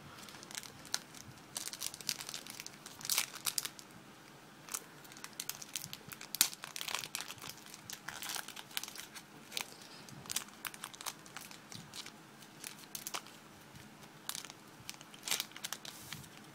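Plastic blister packaging of a Pokémon Dragons Exalted trading card pack crinkles and crackles as it is opened, a steady run of small, close, fairly quiet crunches with no talking.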